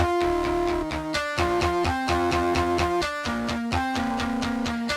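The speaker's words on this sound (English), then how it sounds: "It's just a fairly normal guitar patch." Unprocessed virtual guitar patch from a Kontakt library playing a series of clean, sustained tonal notes and chords in a steady rhythm, close and fairly loud with no voices.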